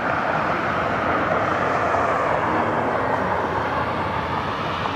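A jet airliner's engines roar at Cleveland Hopkins airport, a loud, steady broadband rumble and whoosh that holds evenly throughout with no talk over it.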